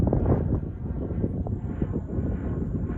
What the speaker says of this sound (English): There's a spray plane.